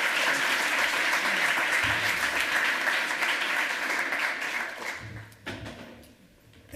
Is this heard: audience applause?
yes